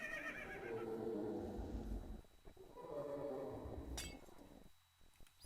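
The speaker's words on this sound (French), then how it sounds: "Des chevaux squelettes." Skeleton horses in a video game give two drawn-out, wavering whinnies separated by a brief pause, with a glassy clink and some light clopping near the end.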